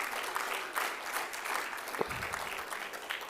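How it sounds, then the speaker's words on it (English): Steady applause from a sizable conference audience, continuous clapping with no talking, with one sharp thump partway through. "can we please give a huge round of applause"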